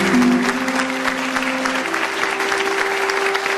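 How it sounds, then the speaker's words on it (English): Sustained applause from an audience for a young prize-winning poet named Darren, steady and dense throughout, with a held musical tone running beneath the clapping. "A round of applause for that boy,"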